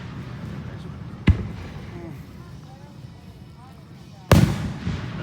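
Fireworks at a 4th of July show go off in two sharp, loud bangs a few seconds apart. Crackling and distant chatter fill the gaps between them.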